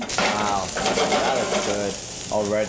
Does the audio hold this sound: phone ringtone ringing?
no